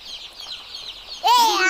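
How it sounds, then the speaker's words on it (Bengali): Baby chickens chirping in a soft, high, fluttering chatter before a loud, clear voice cuts in over them. "দেখছো কত সুন্দর সুন্দর মুরগির বাচ্চা"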